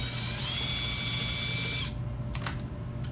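A power drill whirs as it backs out the screws of an electrical wall outlet, a steady motor whine for about two seconds that then cuts off, followed by a few faint clicks.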